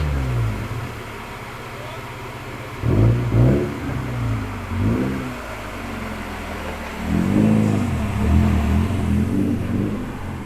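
A Mazda Miata's engine revs in bursts on a rolling-road dyno, with a steady mechanical drone beneath and several louder rises and falls spaced across the span.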